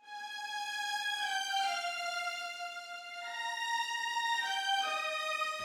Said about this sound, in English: let's take the violins. If we take them without the mixing from Jaeger.